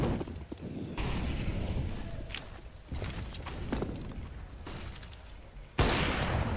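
Gunfire in a Counter-Strike match on the Mirage map, part of a Liquid vs Heroic IEM Rio Major 2022 series: dense bursts of shots in a busy, noisy exchange with sharp onsets recurring over the clip.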